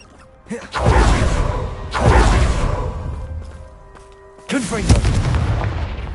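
Bombarda blasting spells go off in the Hogwarts Legacy video game. Three heavy booming explosions, each with a rushing whoosh, land close and loud about every two seconds.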